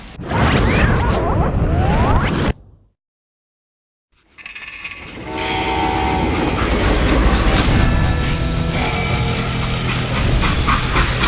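A train rumbles along the rails, then falls silent for a moment before the clattering, rolling noise returns and continues steadily.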